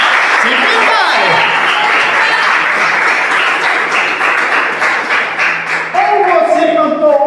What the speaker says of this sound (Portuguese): Palmas para Jesus, então.